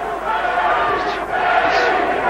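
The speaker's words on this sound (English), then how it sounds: "the crowd, sensing the change in mood in the fight, start to get behind their man" The crowd at a boxing match between Leonard Dorin and Paul Spadafora roars in support of Spadafora, a loud, continuous swell of many voices filling the arena.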